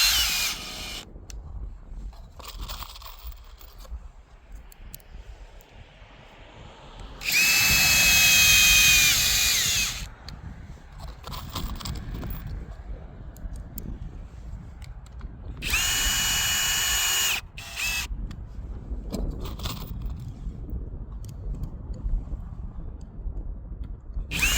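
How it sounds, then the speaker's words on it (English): Power drill driving screws into a railroad track tie plate during winter track maintenance, two loud whining bursts of a few seconds each, close up, separated by quieter outdoor background. "I'm going to put screws on both sides."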